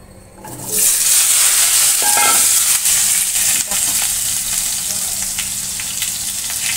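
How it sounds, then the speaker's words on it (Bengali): Poppy seed paste with potato and drumstick pieces frying in hot oil after a five-spice tempering, a loud close sizzle and steamy hiss bursting in and holding steady throughout. "দেখো বসিয়ে দিয়েছি পোস্ত, সজনে ডাঁটা আলু পোস্ত হবে 5 ফোড়ন দিয়ে।"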